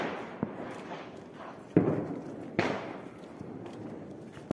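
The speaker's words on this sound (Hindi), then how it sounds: "यह पटाखों की आवाज़ जितनी आ रही है" Several Diwali firecrackers burst at a distance, sharp bangs spaced unevenly over a rumbling, echoing outdoor background, with a couple of louder cracks standing out.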